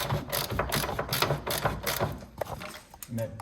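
A ratchet wrench turns a bolt during the teardown of a Jeep CJ5. Rapid, close, continuous pawl clicking runs for a few seconds, mixed with faint voice-like sounds.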